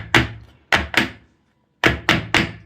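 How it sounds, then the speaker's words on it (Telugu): A cake tin filled with chocolate cake batter is tapped down to release air bubbles, giving close, hollow knocks in two bursts, two quick taps and then three, alone with no talk. "ఎయిర్ బబుల్స్ లేకుండా ట్యాప్ చేసుకోవాలి."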